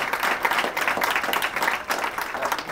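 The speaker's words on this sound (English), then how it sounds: "could we just get, please, a big round of applause for Michael" Audience at an entrepreneur talk applauds for a guest speaker, a full, steady round of many hands clapping, close and evenly sustained throughout.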